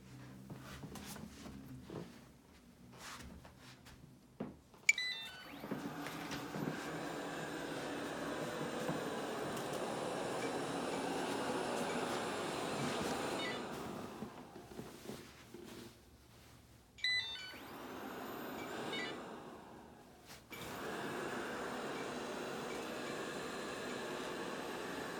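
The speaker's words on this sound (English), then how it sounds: "It will automatically start the vacuum." Bagotte BG800 robot vacuum running, a faint steady motor whir that starts with a beep, hums for several seconds, pauses briefly and resumes.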